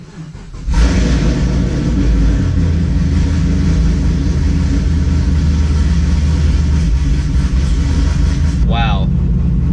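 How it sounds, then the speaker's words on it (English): Chevrolet Camaro 2SS V8 starting up and settling into a loud, steady low rumbling idle close by, with a brief voice near the end. "the car actually sounds really quiet right now"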